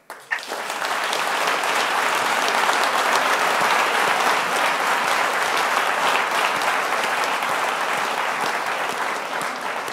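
A conference audience bursts into applause after a talk, starting suddenly and holding as a loud, dense, even roar of clapping for about ten seconds.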